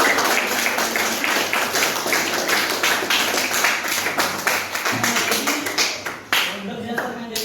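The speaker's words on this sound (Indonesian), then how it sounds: "Tepuk tangan dulu." Classroom of students clapping hands together in a dense, steady burst of many claps lasting several seconds, loud and close, with voices mixed in underneath.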